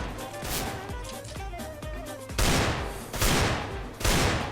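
Desert Eagle pistol shots in a video game firefight on a dark headshot skill map, with several loud, rapid, overlapping bursts of gunfire and no talking.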